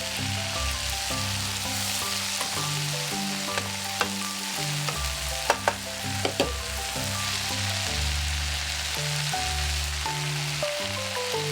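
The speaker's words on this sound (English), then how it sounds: "Lightly saute the vegetables" Vegetables for ratatouille sauté in oil in a pan, giving a steady, close sizzle with a few sharp stirring clicks and light pops, with no voices.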